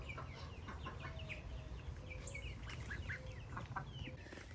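Several chickens cluck and chirp softly near a chicken coop, scattered short calls over a steady, quiet outdoor background.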